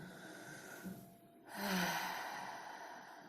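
Slow breathing during a guided meditation, a soft breath followed by a fuller, longer exhale rising over the second half, close and gentle over a faint steady hum, with no words spoken.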